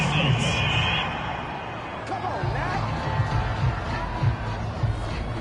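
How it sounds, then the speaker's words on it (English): Home crowd in a football video game cheering a penalty flag on third down, a broad, steady stadium roar running underneath continuous commentator talk. "This home crowd, they're happy with that call."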